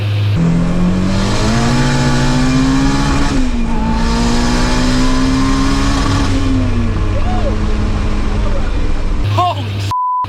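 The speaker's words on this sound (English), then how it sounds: "this turbo is a Pulsar turbo, and it spools up extremely fast" Turbocharged Toyota Starlet with a Pulsar turbo accelerating hard, engine tone climbing steadily through the gears with a brief shift dip, loud and close, ending with a couple of short chirps and a tone.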